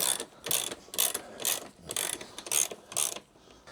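A ratchet fitted with a 22mm socket clicks in seven rapid bursts while loosening the rear wheel axle nut on a 2021 KTM 390 Adventure motorcycle, close and fairly loud with short pauses between strokes.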